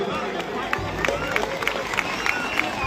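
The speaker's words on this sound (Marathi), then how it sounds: "आणि या संघासाठी पण एकदा जोरदार टाळ्या वाजू दे" A large crowd at a temple festival claps steadily, a broad continuous wash of applause with loud chatter and voices mixed throughout.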